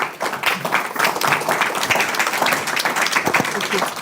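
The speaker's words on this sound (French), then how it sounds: "On peut faire une petite pause et quelques applaudissements." Audience applause in a talk setting, a dense burst of many hands clapping at close to moderate distance, steady for several seconds with voices mixed in.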